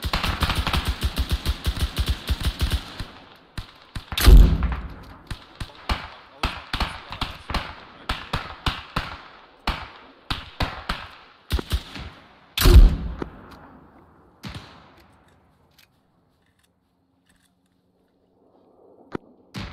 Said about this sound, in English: Shots direct west on the hill.